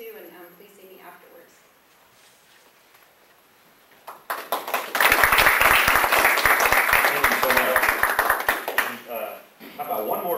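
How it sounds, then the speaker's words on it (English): Audience applause at a business event, starting abruptly after a quiet stretch and swelling into loud, dense clapping that carries on for several seconds, with a voice speaking just before it begins. "How about one more big round of applause for Memorial Hermann Northeast for being represented."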